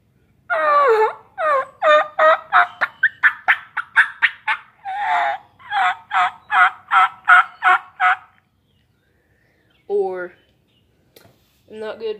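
A voice imitates a wild turkey, chirping in a fast run of short, evenly spaced calls, then stopping, with a couple of brief sounds after a pause.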